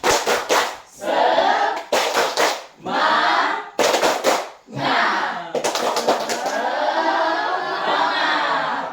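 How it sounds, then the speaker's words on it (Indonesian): A standing classroom group performs a rhythmic spirit clap, with sharp bursts of unison clapping in short patterned sets separated by brief gaps and shouted group responses, ending in a longer run of clapping mixed with voices. "Kita tepuk semangat"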